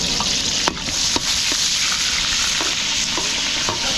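Ginger sautés with garlic and onion in a pan, a steady, close sizzle broken by several light, evenly spaced clicks and scrapes of a spatula stirring against the metal.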